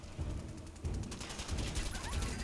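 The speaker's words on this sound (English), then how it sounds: "Where are these shots coming from?" Enemy gunfire crackles in Fallout 4, a rapid run of distant shots in uneven bursts with a deep rumbling low end, loud and continuous with no talk.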